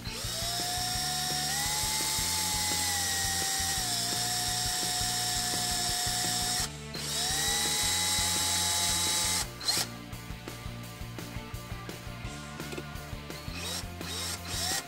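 Power drill drilling out aluminum rivets on a Ferrari 355 immobilizer, a close high whining motor with grinding bite that dips as it loads, then a series of short rattling bursts as the rivet heads break free.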